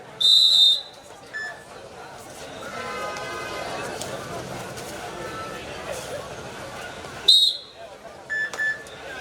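A referee's whistle sounds at a live kabaddi match between Indian Girls and Edappadi. Two sharp shrill blasts come at the start and again near the end, with shorter peeps after, over a busy outdoor crowd murmur and commentary.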